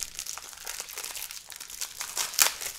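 Plastic packaging around a keyboard wrist pad crinkles and rustles as it is handled, a close run of crisp crackles with a sharper crunch near the end.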